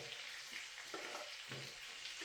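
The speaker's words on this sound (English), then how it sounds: "I'm going to add our peppers." Whole mini sweet peppers sear in a hot pan on a wood stove beside a NY strip steak, giving a steady, close hiss of frying with faint shifts as the peppers settle.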